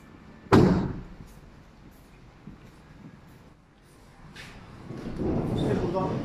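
The sliding side door of a 2021 Ford Transit 350 L van lands one sharp, loud slam near the start, then a rolling scrape builds toward the end as the door moves again; someone talks in between.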